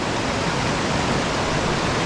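Water in a mountain stream in Great Smoky Mountains National Park rushes in a loud, steady, broadband roar, close by and unbroken, with no voices over it.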